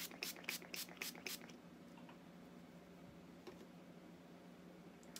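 A cucumber and green tea facial mist bottle gives several quick, close hissing spritzes in a rapid run near the start, then falls to quiet room tone.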